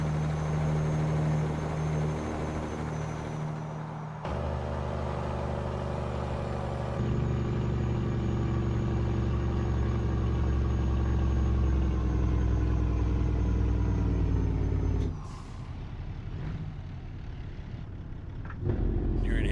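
A Peterbilt 389 truck with a 625 King of the Hill engine in a farming simulator video game rumbles steadily at low pitch for most of the stretch, changing tone a few times, with a brief drop near the end.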